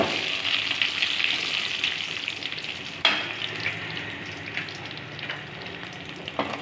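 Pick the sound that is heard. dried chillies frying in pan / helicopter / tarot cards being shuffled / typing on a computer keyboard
dried chillies frying in pan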